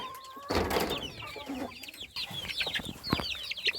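Month-old chicks on a poultry farm peep in a busy chorus of short, high chirps, mixed with a few lower clucks, close by and with no talking.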